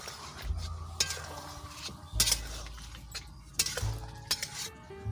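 A spoon stirs a spice paste through spinach and snakehead fish in a pan, producing intermittent scraping and clinking strokes with a soft sizzle underneath, close up and without speech.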